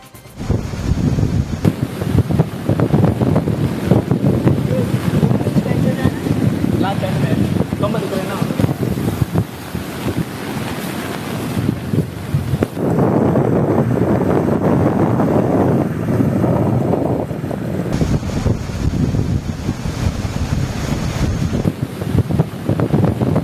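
Sea waves crash at Kudle beach in Gokarna during pouring rain, a loud, continuous roar of surf with heavy wind buffeting the microphone, surging and easing slightly over the stretch.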